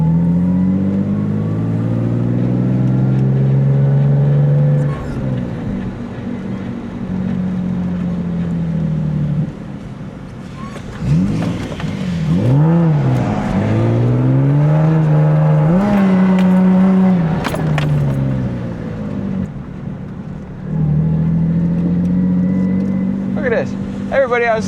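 Several cars drifting together, engines revving and bouncing off the limiter in loud sustained waves with sliding swoops, people talking excitedly over the roar.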